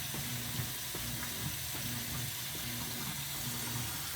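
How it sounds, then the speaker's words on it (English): A washing machine's water switch controls vibrate with a steady low hum and rhythmic pulsing buzz, set against a continuous watery wash background at close range. "These are the water switch controls. I hear this one vibrating more because we don't use hot water"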